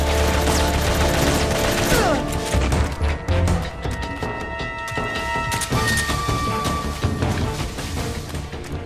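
Dense gunfire in the video game Metal Gear Solid 3, a continuous loud barrage of shots and crashing impacts with metallic clatter running for nearly nine seconds without talk.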